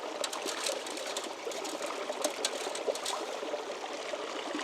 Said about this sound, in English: stand it up in this bucket and try to wash some water down through it